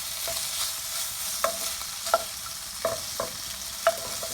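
Shrimp and garlic stir-fried in a pan, with a steady broad sizzle and a few sharp scrapes of a utensil against the pan, no voices.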